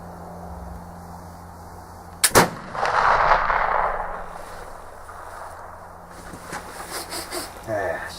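A flintlock rifle converted for pellets fires a single sharp, loud shot with an instant crack, followed by a brief hissing, rushing trail that fades. Quiet handling noises and faint talk come afterward.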